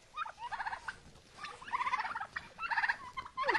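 Turkeys in a snowy Ukrainian village yard gobble in quick bursts, with several rattling calls overlapping at moderate distance and no one speaking.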